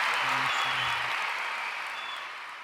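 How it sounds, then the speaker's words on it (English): Brief applause during a hip hop talk show, a wash of clapping that fades slowly, with a low voice murmuring briefly near the start. "I had to give him some claps."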